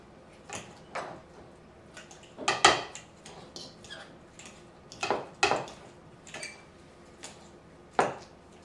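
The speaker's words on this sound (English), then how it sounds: "We're going to use a fork to mash up all 3 avocados in the bowl" A metal fork mashes three avocados in a bowl, giving irregular clinks and scrapes against the bowl with soft squishy pauses between the louder strikes, close by, with no talking.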